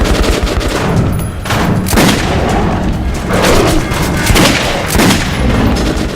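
Gunfire from the Metro 2033 video game comes in repeated loud, dense bursts of shots and booms, with brief pauses between volleys and no speech.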